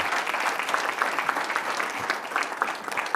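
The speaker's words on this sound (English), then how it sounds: "So that is worthy of a lot of applause and a lot to celebrate." An audience applauds at a school district budget presentation, giving a dense, continuous wash of clapping throughout with no voices on top.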